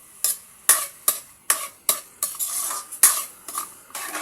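Hotdogs fry in a pan as a first step toward spaghetti, the quiet sizzle broken by about ten sharp scraping stirs of a utensil against the pan at an irregular pace, close and clear, with no talk.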